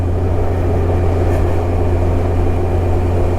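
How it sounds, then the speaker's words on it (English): A loud, steady engine drone with a deep low hum runs continuously, close and constant throughout. "we're still able to pick up the engine noise"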